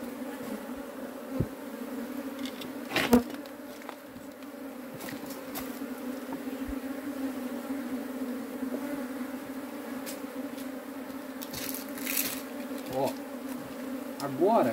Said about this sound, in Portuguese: Já tem bastante abelha na casa.